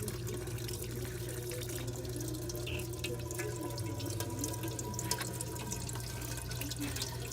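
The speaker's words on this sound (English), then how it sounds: "we're gonna let that drain out for a few minutes" Radiator fluid draining from a 2008 Chrysler minivan into a catch container, a steady trickling, splashing stream with a constant low hum underneath.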